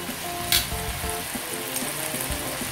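Steady sizzling and crackling from beef frying in a pan over high heat, continuous and fairly close, with a few soft clinks of a utensil.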